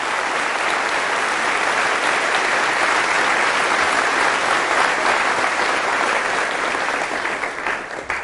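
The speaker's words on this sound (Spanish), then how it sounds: "Fuertes aplausos al Señor Jesús." A church congregation at Sunday Catholic Mass applauds loudly, a thick, sustained roar of many hands clapping at steady strength before tapering off at the very end.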